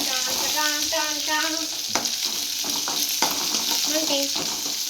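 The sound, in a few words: sautéing mutton with onions in a pan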